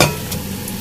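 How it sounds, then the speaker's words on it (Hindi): Softened tomatoes being stirred and fried in oil into a paste for chicken karahi, a short close scrape of the spoon over a low steady sizzle, no voices. "इधर हम इसको हल्का सा भूनेंगे कि हमारे टमाटर बिल्कुल एक पेस्ट की फॉर्म में आ जाए"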